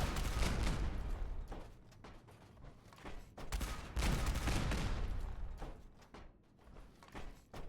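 Rapid gunshots in Fallout 76 roll through as dense, echoing volleys, swelling twice and fading between, loud and clattering with mechanical creaks mixed in, no speech.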